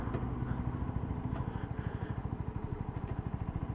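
A Lexmoto Assault motorcycle engine on a test ride, a mid-pitched steady pulsing throb that shifts as the gears change, close and fairly loud throughout.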